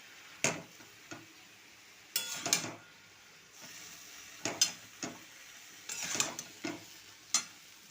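Spinach with salt and turmeric being stirred in a pan, soft intermittent scraping strokes and faint sizzling bursts in irregular clusters, fairly quiet and close.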